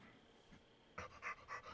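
A sick space dog in a video game pants softly in a run of quick, breathy bursts after a quiet start, faint and close with no talking over it.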